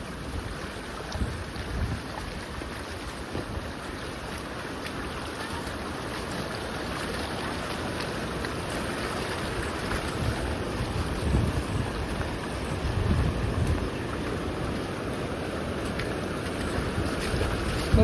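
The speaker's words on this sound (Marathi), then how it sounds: "डायरेक्ट वर उमटून रोडनी पाणी चाललंय" Floodwater flowing across a road after overtopping its banks, heard as a steady, moderately faint rushing wash with wind noise on the microphone and no voices.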